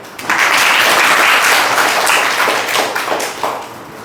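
An audience bursts into loud, dense applause at an Independence Day talk, a steady shower of clapping that swells and then slowly thins toward the end.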